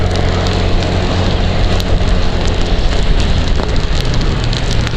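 Heavy rain pours down steadily in Malang, a dense, loud wash of drumming and hiss with scattered sharper drops hitting nearby surfaces, continuous throughout with no voices.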